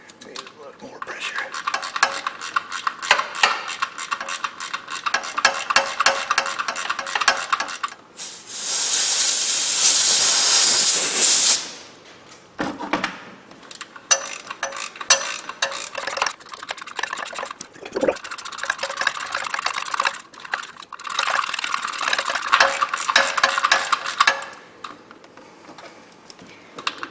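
A thread-cutting tap driven by hand into a stripped drain plug hole, giving a long grinding, hissing scrape with short pauses and a bright burst near the middle, heard close up.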